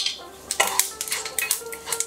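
Mustard oil, panch phoron and a dried chilli going into a pan for pineapple chutney, heard as light clinks and scrapes of a spoon against metal cookware, scattered short taps at close range with no talk.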